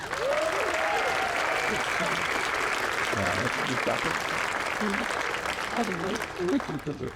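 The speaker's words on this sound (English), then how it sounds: "How about a big round of applause for our first responders?" Banquet audience at a fire and lifeguard awards dinner applauds first responders, a broad steady wash of clapping that runs the whole time while a voice speaks over it in the latter half.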